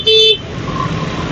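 Car horns honk amid steady road noise in a traffic jam on a busy street in Kuto, an Indonesian town, with one loud toot near the start over a continuous low rumble of vehicles.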